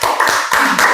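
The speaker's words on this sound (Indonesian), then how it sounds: "Tepuk tangan" Students in a classroom clap their hands in a short rhythmic pattern, four or five sharp, close claps within about a second.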